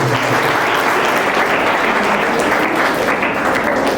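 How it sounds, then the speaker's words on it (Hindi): Loud, sustained applause from a seminar audience on World Ozone Day, a thick continuous wash of many hands clapping that holds steady throughout with no talk. "सर तालियां बजा दीजिए हमारे"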